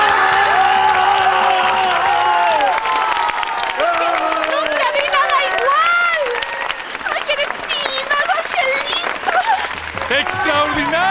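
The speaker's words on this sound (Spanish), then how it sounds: "¡Se merecen un gran aplauso!" Audience applause at a televised show, dense clapping and crowd noise running throughout, mixed with several excited voices shouting and cheering over it, loud and close.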